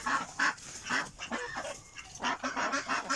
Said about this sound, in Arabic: كما كتشوفوا الدجاج الفيومي، اللهم بارك، حتى يشرب الماء.